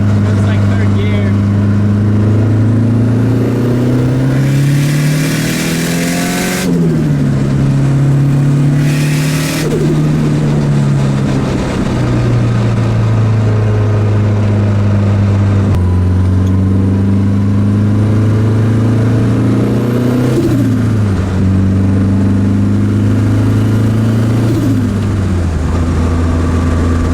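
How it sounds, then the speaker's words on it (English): An SR20DET-swapped Datsun 510 revs hard under turbo boost from inside the cabin, a loud droning engine note rising and dropping through several gear changes across the whole stretch. "I can show you guys what a little bit of boost sounds like in here"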